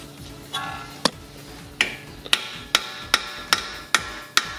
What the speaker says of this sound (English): let's get a hammer. Okay, and we'll tap those things out